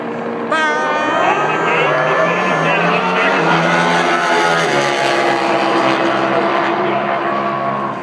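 Loud, sustained high-revving engine roar with rising and falling harmonics from drag racing motorcycles at full throttle, with a commentator talking over it.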